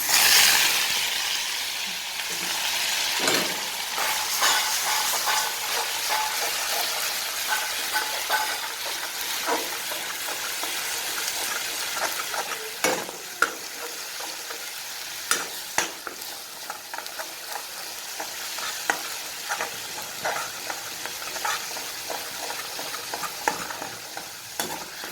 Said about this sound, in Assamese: আদা নহৰু পিঁয়াজৰ পেষ্টটো দি দিম মই গ্ৰেভিটো